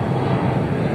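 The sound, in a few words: airplane taking off from Yogyakarta International Airport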